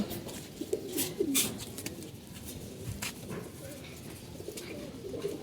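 Low, repeated cooing of Jira Gola pigeons close by, with a few flutters and scuffles and a voice talking over them.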